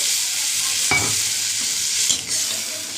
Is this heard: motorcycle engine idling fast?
no